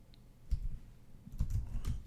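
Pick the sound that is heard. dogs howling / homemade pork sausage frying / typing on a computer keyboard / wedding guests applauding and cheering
typing on a computer keyboard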